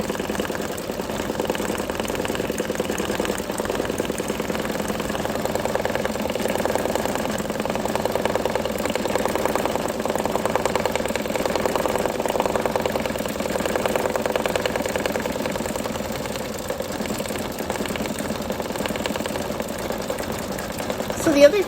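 An embroidery machine from the Brother Scan N Cut 330 setup sews out patch stitching, a steady rapid mechanical whir and needle chatter running continuously at moderate loudness throughout.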